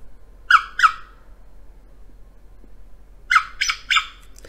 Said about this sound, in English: you'll notice that that rodent squeaking actually sounds a bit like, you know, these squeaker toys